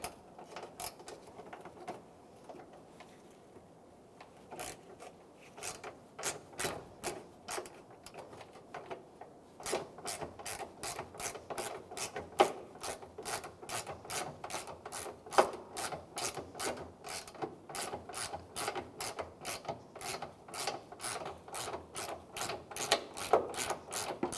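A ratchet wrench with a 10mm socket backs out headlight mounting bolts on a 2000-2006 Toyota Tundra, giving close, steady runs of sharp clicking that start sparse and then become rapid and continuous, with no talking.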